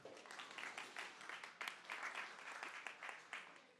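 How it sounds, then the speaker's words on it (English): An audience at a lecture-series talk on the biology of political traits claps together, a continuous patter of many hands heard at a distance and fairly quiet throughout. "Give yourselves a round of applause."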